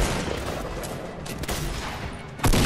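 Gunfire in the video game Fortnite rattles in rapid bursts, loud and close, ending with a sharp fresh volley.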